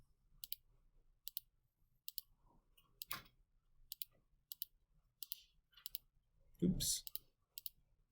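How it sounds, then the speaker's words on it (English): Buttons pressed on a calculator in a classroom, a series of sharp, separate clicks spaced across the moment, with a louder thump near the end and a person speaking briefly. "we'll go ahead and type this into our calculator"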